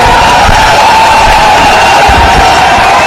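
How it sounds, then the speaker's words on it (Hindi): An audience at a live event bursts into loud, sustained applause mixed with cheering and whoops. The crowd noise is close and fills the whole stretch without pause. "तालियां।"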